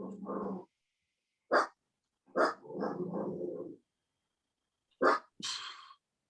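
A dog barking in a few short, separate bursts with quiet gaps between them, close and fairly loud, with a growly edge and a brief whimpering sound near the end.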